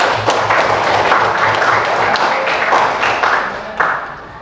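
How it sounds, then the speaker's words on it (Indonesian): A classroom group claps together in a steady burst of applause, close and fairly loud, fading slightly toward the end. "Dan tepuk tangan, Pak."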